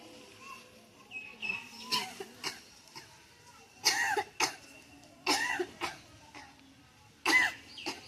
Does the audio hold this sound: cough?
yes